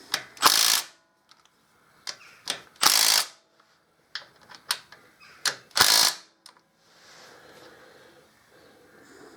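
Torque wrench ratcheting in bursts on the pulley bolts of a 2002 Harley-Davidson Dyna Wide Glide during a final drive belt replacement, with several loud, close clicking runs separated by pauses and a faint rustle at the end.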